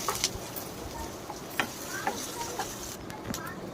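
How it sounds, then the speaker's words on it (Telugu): Onion pieces frying in a pan, a soft, quiet sizzle with scattered light ticks and utensil taps, moderately close. "వేగాక ఆనియన్ ముక్కలు వేసి"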